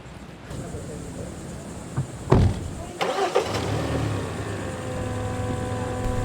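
A car engine cranks and catches with a short burst, then settles into a steady idle hum, heard close from inside the vehicle, with a few clunks just before the start.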